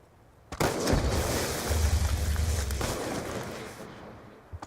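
Burst of gunfire in the video game Call of Duty Black Ops 2, a loud rattling volley with a booming low rumble lasting a few seconds, then cutting off to quiet.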